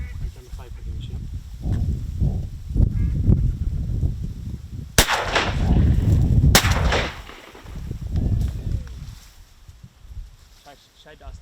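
Shotguns fire during an early October public-land duck hunt in South Dakota, with two loud, sharp blasts about a second and a half apart amid outdoor talk and shouting.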